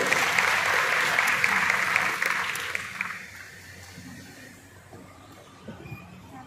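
Audience applause at a district administration felicitation ceremony for successful competitive-exam students in Amravati, loud and sustained at first, then fading to scattered claps with murmuring in the hall.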